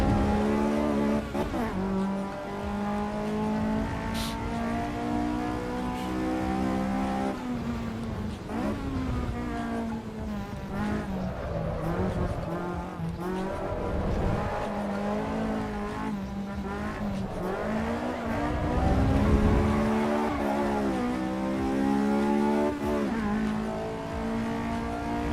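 A Caterham race car in the Assetto Corsa EVO racing game drones continuously at high revs, pitch climbing and dropping through gear changes, with occasional tyre scrub, steady and loud throughout.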